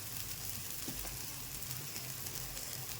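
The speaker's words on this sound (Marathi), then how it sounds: "आता आपण मस्तपैकी त्याला फ्राय होऊ देऊ" Appe, Maharashtrian lentil dumplings, frying in an appe pan: a steady, close, even sizzle of hot oil carries on without a break, with a low hum underneath and no voices.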